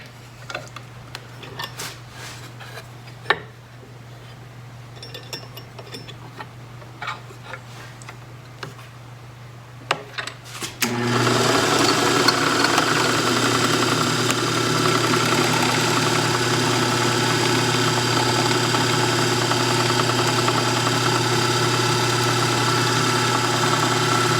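A mortising machine cuts holes in a wooden console leg: faint ticks and light clatter at first, then the motor kicks on and runs loud and steady to the end, close by.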